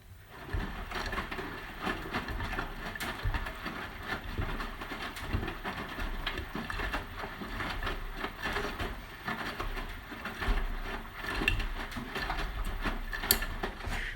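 A Hotpoint HE7L492 washing machine runs a standard cotton wash for darks. It gives a steady, quiet mechanical rumble with soft tumbling knocks throughout.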